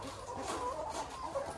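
Chickens cluck softly at a layer farm, a low, continuous murmur of clucks from several birds over a steady background hum.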